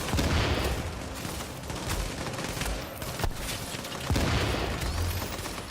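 Rapid bursts of video game gunfire fired at a boss, loud and close, in repeated volleys with short gaps and no talk.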